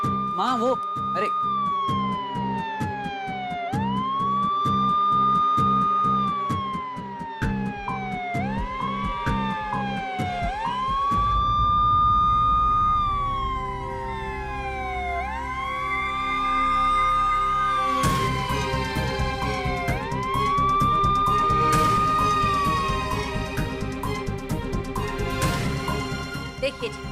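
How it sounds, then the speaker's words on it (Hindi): A phone ringtone that sounds like a police siren repeats its rising and falling wail loud and steady, with background music and a few voices beneath it. "और घंटी सुनी जैसे सायरन बज रहा हो।"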